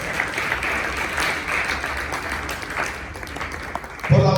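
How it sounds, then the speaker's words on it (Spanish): A church congregation applauds during a Spanish-language worship service, steady sustained clapping mixed with crowd noise and scattered voices, ending with a louder burst at the close. "Dele palmas a nuestro Dios por eso."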